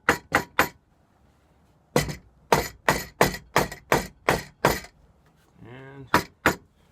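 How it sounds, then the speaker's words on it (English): A hammer taps attic truss web members in quick, crisp strikes: a burst of three, a pause, then a rapid run of about nine. A brief voice comes before the final two taps. "Just going to take our hammer and we're going to make sure everything here is nice and tight up here."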